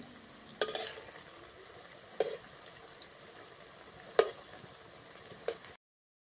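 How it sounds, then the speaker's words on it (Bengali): Faint, quiet deep frying of semolina pakoras in oil, a soft steady sizzle broken by a few sharp clicks and taps of a utensil. "একইভাবে আমি সবগুলো ভেজে নেব"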